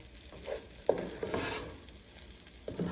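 Rice is stirred back into scrambled egg for kimchi fried rice in a hot pan, a soft sizzle with a few scraping knocks and clinks of the utensil, close and fairly quiet.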